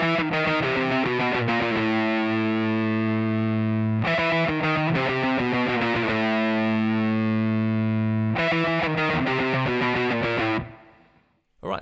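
Heavily distorted electric guitar playing the solo backing riff of a song, chugging sustained chords in three repeated phrases with sharp attacks, loud and close, ending in a brief fade and a final pluck.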